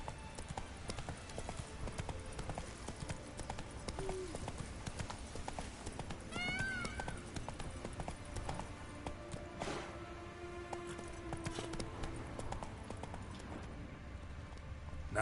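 Roach, the horse in the video game Witcher 3, gallops with steady clip-clop hooves over a busy game soundscape, a whinny rising partway through, with no speech.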